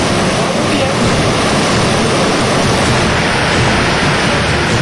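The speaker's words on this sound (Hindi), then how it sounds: "बस्ती में पानी की प्रचंड लहरें इंसानों को सिहरा रही हैं" Raging floodwater pours through a flooded settlement in Rajasthan as a loud, constant, close roar of rushing water with no pauses and no voices.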